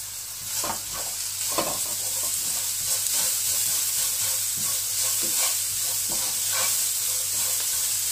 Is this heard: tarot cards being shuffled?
no